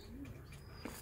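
Pigeons coo briefly and faintly, a short low call over a soft outdoor wash, with a hint of movement near the end.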